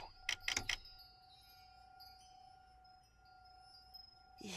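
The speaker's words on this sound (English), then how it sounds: "Every time the window behind the bar was opened, the decorations would clink. That's the sound I heard." A few quick glassy clinks and tinkles from old ballroom chandelier decorations swaying in a breeze, followed by a faint ringing hum in a quiet room, in the video game The Suicide of Rachel Foster.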